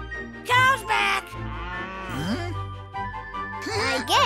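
Cartoon cows lowing on a farm, several drawn-out moos rising and falling one after another, loud and close, with a jingling bell and children's voices speaking.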